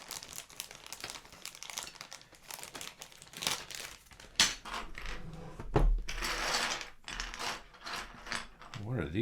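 Keycaps are pressed onto a brand new Model F Labs F62 Kishsaver keyboard, giving a run of close plastic clicks, snaps and rustling handling noises with no talking.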